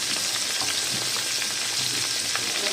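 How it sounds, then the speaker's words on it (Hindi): Chicken deep-frying in oil over a slow flame makes a dense, even bubbling sizzle, close and constant with small crackles throughout. "इसको फ्राई होते हुए तकरीबन 3 से 4 मिनट हो गए।"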